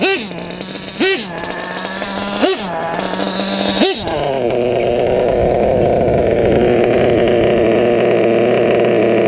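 A modded 28.8 REX nitro engine in an RC car blips through three sharp revs, then settles into a loud, sustained high-pitched whine close by.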